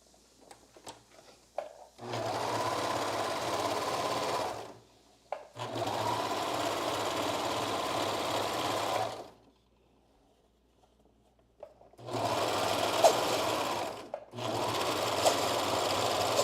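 A sewing machine stitching fabric for a basic dress after its thread tension was adjusted, running in three steady buzzing bursts of a few seconds each, separated by short pauses, loud and close with no talking.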